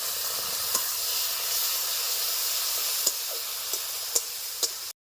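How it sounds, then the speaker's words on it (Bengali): Fried onions sizzling in oil as a paste of ginger, garlic and green chili is added, a steady close hiss punctuated by several sharp utensil clicks before it cuts off abruptly. "পেঁয়াজটা ভাজা ভাজা হয়ে আসছে, দিয়ে দিচ্ছি বাটা মশলা, আদা রসুন কাঁচা লঙ্কা একসাথে বাটা দিয়ে দিচ্ছি"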